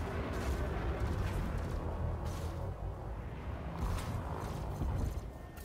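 Plasma accelerator weapons in the Elite: Dangerous space combat game fire as a continuous heavy roar with repeated booming bursts and mechanical rumble, loud and dense throughout.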